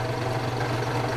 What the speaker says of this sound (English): This type of pump is typically used in chemical factories for pulling vacuum on chemical reactions.